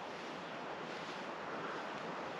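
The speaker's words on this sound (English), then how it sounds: "Getting windy." Steady wind blowing outdoors at a Minnesota deer camp, a constant broad rushing gust buffeting the microphone, with no voices.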